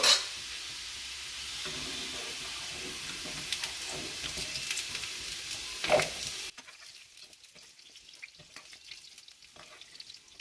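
Potatoes fry in a pan of hot oil with a steady, close sizzle and crackle that cuts off sharply partway through, leaving only a faint, quieter hiss afterward.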